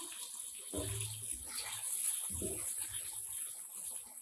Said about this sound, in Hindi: अब आप इसमें थोड़ा सा पानी डाल देंगे हम और आँच को हम कर देंगे आहिस्ता